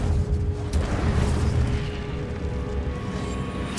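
Incendio fire spell cast in Hogwarts Legacy, a dense roaring burst of flame with a deep booming rumble that holds steady throughout, loud and close, no talk.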